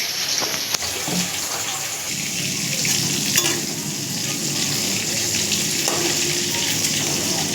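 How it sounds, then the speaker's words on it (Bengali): River magur catfish frying in a pan, a steady loud sizzle and crackle of hot oil throughout, with no voices. "এবারে মাছগুলো দেবো, দিয়ে ভেজে তুলে নেব।"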